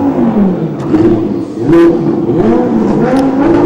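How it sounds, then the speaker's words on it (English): Lamborghini race cars start up and rev at the Nürburgring during a Super Trofeo Europe race, with loud, close engine revs rising and falling over a continuous rumble. "So the engines fire up here at the Nürburgring"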